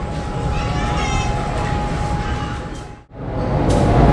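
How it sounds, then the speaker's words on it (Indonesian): A Bengawan passenger train hauled by a CC201 diesel locomotive stands at a station platform, giving a loud, steady rumble with a faint hum above it. The sound dips sharply for a moment near the end, then returns. "Rangkaian kereta api Bengawan telah tersedia di peron jalur 3."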